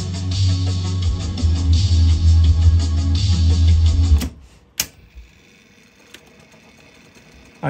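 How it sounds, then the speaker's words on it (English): A Sony TC-K666ES cassette deck runs its high-speed tape winding with a loud, steady mechanical whir and hum. After about four seconds it stops abruptly, followed by a couple of sharp clicks and near-quiet. "I cannot get over this high-speed winding system."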